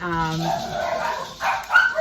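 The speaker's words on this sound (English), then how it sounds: "And there's the dogs barking." Several dogs bark and yip close by, loud and overlapping in short bursts, with a person talking over them.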